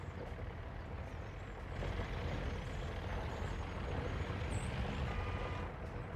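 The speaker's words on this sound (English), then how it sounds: "Happy, happy truck noises." Trucks in the city-building game Workers and Resources: Soviet Republic give a steady low engine rumble that grows louder about two seconds in, with a brief hiss like an air brake near the end.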